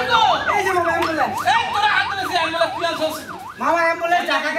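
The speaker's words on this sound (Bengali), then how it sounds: "এই যে মামা অ্যাম্বুলেন্স" An ambulance siren wails with a steady up-and-down cycle, loud and close, sounding over a busy street with crowd chatter and voices talking.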